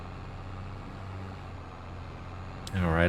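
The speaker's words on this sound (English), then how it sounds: "I'm going to grab it with the front end loader since the trailer is full." A front end loader in Farming Simulator 22 rumbles at a low, steady idle, then its engine surges louder and revs upward near the end.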